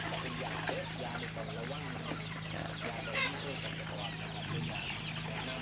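Chickens cluck close by over a busy farmyard background with a low hum, continuous and moderately loud, with faint scattered pecking.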